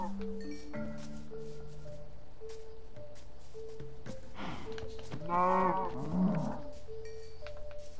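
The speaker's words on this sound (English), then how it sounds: "Oh, there's a lot of cows." Cows mooing in the Minecraft video game, two or three drawn-out low moos near the middle and end over quiet game ambience with soft clicks and tones.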